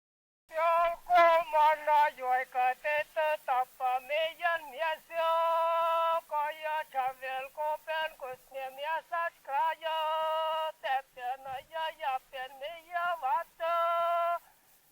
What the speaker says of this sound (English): What you're hearing right now is a yoik.